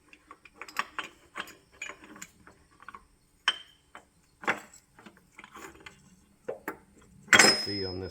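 Transmission gears being removed from an IH torque amplifier on a 3-speed tractor transmission, heard as scattered metallic clanks, clicks and rattles at close range, ending in a louder metal clatter.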